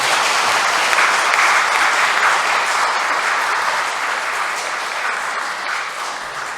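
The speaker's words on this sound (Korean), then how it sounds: "뜨거운 환영의 박수로 신부님을 맞이하겠습니다." Parish members give a priest a warm welcoming round of applause at a Catholic Mass celebration, loud sustained clapping from a large indoor gathering that tapers gently toward the end.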